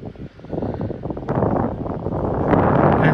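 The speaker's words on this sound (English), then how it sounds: "Just see how windy it is." Strong gusting wind buffets the microphone outdoors on a windswept links golf course at Barnbougle Dunes, a continuous roaring rumble that swells louder toward the end, with no speech.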